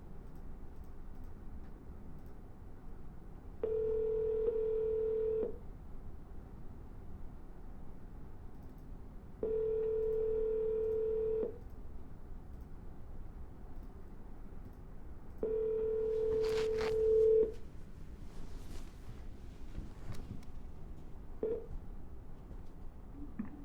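A telephone is dialed twice in a row, each attempt giving a steady ringback tone in about two-second bursts separated by quiet pauses, with a brief clicking at the end of the third tone and no talk.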